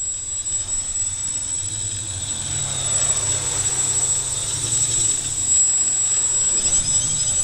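Steady, continuous motor drone from an X650 multicopter during a test flight, holding a constant pitch with slight swells in loudness throughout, with no voices.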